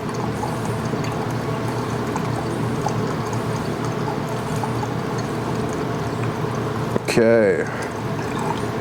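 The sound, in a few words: pouring 500 grams of liquid into a beaker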